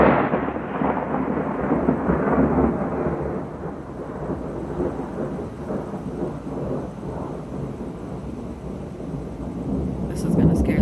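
Thunder from an overhead storm on a dry night before any rain, a long low rumble rolling steadily and fading gradually over about ten seconds, with a fresh swell near the end; no talk.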